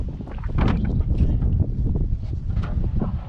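Strong wind roars and buffets the microphone aboard a small fishing boat out at sea in rough weather, with waves washing against the hull in a loud, continuous rush.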